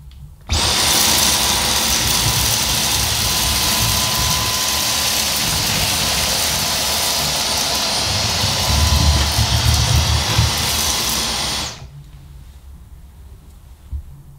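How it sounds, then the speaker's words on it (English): A Dyson Omniglide Plus cordless vacuum with dual rollers sweeps oats, red lentils and black sand off a ceramic floor, a steady loud whirring motor running alone for about eleven seconds with rattling debris, then cutting off. "I'm first going to test the Dyson Omniglide on a ceramic floor"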